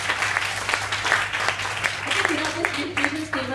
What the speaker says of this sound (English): Can you give this mission statement a round of applause?